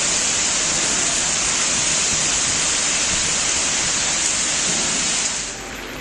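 Heavy rain with gusty wind in Thanjavur district, Tamil Nadu: a loud, steady, dense hiss of downpour filling the whole stretch, easing slightly near the end, with no voices.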